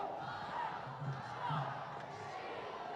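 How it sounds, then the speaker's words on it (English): A home crowd at a field hockey league match between Uttar Pradesh Wizards and Delhi Waveriders chants a countdown in unison, a steady mass of voices rising and falling in rhythmic pulses with no distinct speech. "Crowd counting us down to this second quarter then."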